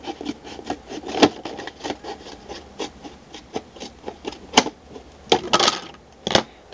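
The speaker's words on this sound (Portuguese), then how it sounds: "vamos começar a cortar nesse risco" Cutting along a marked line to make a recycled soap dish gives a close run of crisp, rasping snips and scrapes. They come in an irregular rhythm, with a few sharper, louder cuts among them, and no speech.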